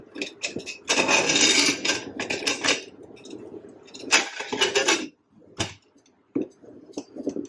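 A metal pressure cooker lid is fitted on while cooking duck curry, giving a close series of clanks, scrapes and clicks in short bursts with brief pauses.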